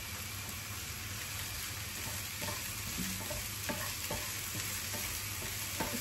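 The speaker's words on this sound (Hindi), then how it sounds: "इसको अच्छे से हम सॉटे करेंगे" Sweet corn kernels sautéed in a pan with a little salt make a continuous, crackling sizzle, with scattered light taps and scrapes of the stirring spoon throughout.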